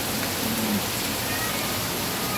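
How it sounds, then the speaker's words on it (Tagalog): Heavy rain pours down steadily, a dense, unbroken hiss at an even, fairly loud level with no voices over it. "Sobrang lakas ng ulan."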